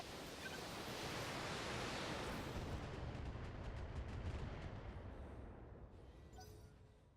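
LRM-20 missile fire in the BattleTech video game comes as a loud, dense rushing roar of launches and blasts, rolling on for several seconds before fading out with a lighter rattling tail.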